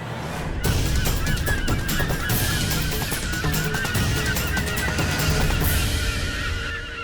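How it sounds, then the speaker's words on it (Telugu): A large flock of birds flying in honks loudly and continuously, many goose-like calls overlapping, with a rushing background noise. "పక్షుల గుంపు ఎగిరి వస్తుంది"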